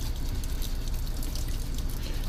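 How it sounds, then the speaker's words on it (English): Hot and cold water from a kitchen sink faucet in a 2013 Thor Windsport 32A motorhome runs in a steady, close, splashing stream, continuous and unbroken with no talking. "Hot and cold running water right here."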